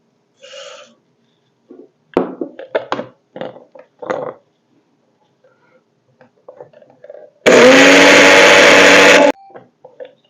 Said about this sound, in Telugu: ముందుగా మనం ఫ్లాక్స్ సీడ్స్ అంటే అవిసె గింజల్ని చక్కగా మిక్సీ పట్టి పౌడర్ రెడీ చేసుకుందాం